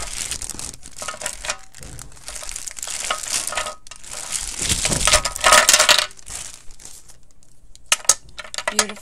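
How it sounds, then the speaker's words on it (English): Plastic bag of Memento ink pads crinkling and crumpling as it is handled and opened, a steady close rustle with louder crackling bursts midway and a few sharp crisp snaps near the end. "Sorry for the crinkle."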